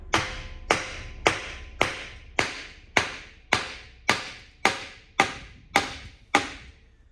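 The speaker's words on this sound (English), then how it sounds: "Let's get a brass hammer or a mallet, whatever you got." Eleven sharp metallic taps of a brass hammer on a Briggs and Stratton engine part, struck at a steady pace, each ringing briefly before the next blow, close and clear with no talk.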